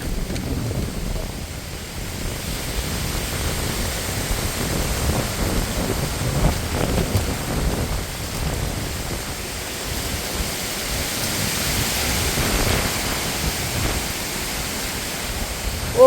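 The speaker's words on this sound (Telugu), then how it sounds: "మనుషులను కూడా ఎగరేసేసి అంత గాలి వస్తుంది" Steady roaring cyclone wind with a broad hiss of rain, loud and continuous throughout, with no voices.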